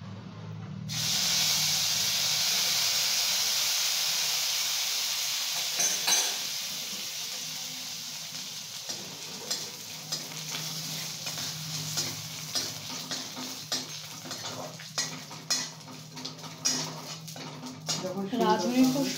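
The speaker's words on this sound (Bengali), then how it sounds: "এবার মা ফোড়নে দিচ্ছে রাঁধুনি" Radhuni seeds tempering in a small amount of hot oil for a Bata fish curry, giving a steady close sizzle and hiss that settles into crackling pops, with voices talking over it.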